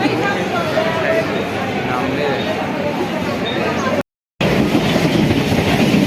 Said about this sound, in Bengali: গাইজ দেখো আমাদের ট্রেন এখন বিধাননগরে ঢুকছে